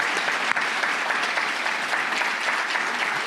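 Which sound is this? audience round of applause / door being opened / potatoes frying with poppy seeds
audience round of applause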